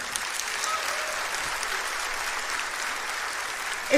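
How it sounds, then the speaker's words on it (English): Applause from a mega church congregation, a steady, even wash of clapping across the whole stretch, moderately loud and somewhat distant. "the church applauds for this clearly false statement"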